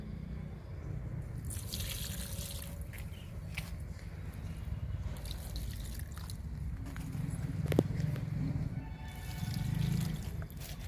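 Soaked green-grass liquid fertilizer poured onto a purple heart plant, a steady close trickle and splash of liquid with scattered drips, no voices.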